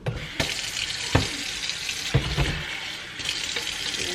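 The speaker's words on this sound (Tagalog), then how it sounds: "lagyan ko siya ng tubig konti" A small amount of water is poured into a dish in a home kitchen, making a splashy hiss with a few clinks and knocks of utensils. It is fairly close and there is no talking.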